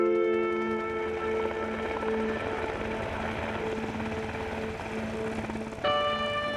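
A Coast Guard helicopter drones steadily over snowy Alaska with a whirring rotor hum and tonal whine, continuous and moderately loud, with a brief shift in pitch near the end.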